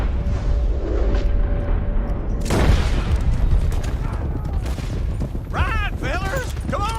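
A gunfight in Red Dead Redemption 2 produces one loud, sharp gunshot boom that stands out over a constant rumbling game backdrop, followed by voices talking near the end.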